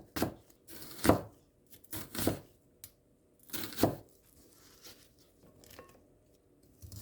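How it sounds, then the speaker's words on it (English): Knife slicing tomato and onion into elongated strips, a series of crisp cutting and tearing strokes in uneven rhythm with short pauses, close and moderately loud, no talking. "Now let's slice tomato and onion in an elongated way."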